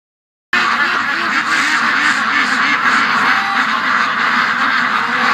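Many small wild ducks inside a pen quack continuously and loudly in an overlapping chorus, close by, starting suddenly after a short silence.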